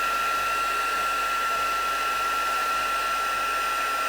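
A heat gun melting gold embossing powder blows a constant, loud, even whoosh with a steady high whine and no pauses.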